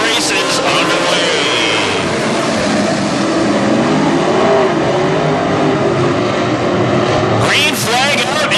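WISSOTA modified race cars roar at Ogilvie Raceway at the green flag of a final heat, a loud continuous engine snarl that swells as cars sweep close near the end, with a voice faintly underneath.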